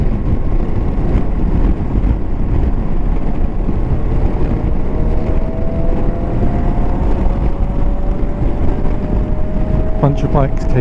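Several motorbikes pass by on a Norwegian highway, their engine whine rising and falling over steady wind roar, with a louder burst of revving near the end.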